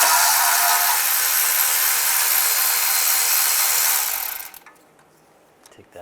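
A ratchet or power tool with a 10mm socket works loose the oil pump pickup bolt on a 2007-2013 Chevy Silverado during a timing chain job, giving a steady hissing whir for about four seconds before it stops, followed by faint clinks.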